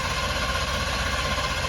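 A twin-turbo 2020 Ford F150 4x4 engine runs steadily right after long cranking, a close, continuous idle rumble with broadband exhaust hiss and no pauses.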